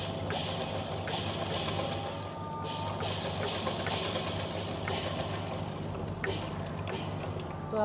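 Steady whirring of a sewing machine running stitches along a V-shaped neckline on a top made from leftover fabric, a continuous close motor drone with small shifts in pace.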